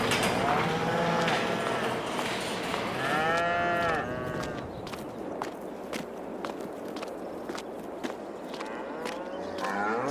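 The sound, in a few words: cattle mooing in cow barn, Farming Simulator 22 video game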